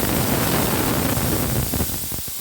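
Poppy seeds fry in hot oil with a pinch of salt in the pan, giving a dense, even hiss of sizzling that is close and steady, then thins toward the end.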